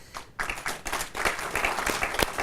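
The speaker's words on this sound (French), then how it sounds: "les applaudissements" An audience at an association event claps in a modest round of applause, with uneven individual hand claps that build after a brief quiet start and stay moderately loud throughout.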